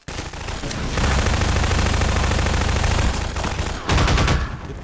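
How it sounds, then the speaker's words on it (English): Half-Life 2 Lost Coast gunfire, a loud, dense roar of rapid shots sustained for several seconds close up, then a brief drop and a final heavy burst, with no voices. "The shotgun blasted him in his face with a right click."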